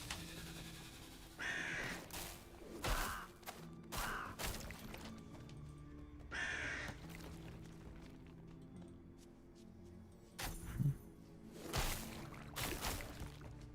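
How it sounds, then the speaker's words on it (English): Crows caw repeatedly in the Darkhaven action RPG, a series of loud harsh calls in irregular bursts over steady game ambience and scattered thuds. "Look at all these crows."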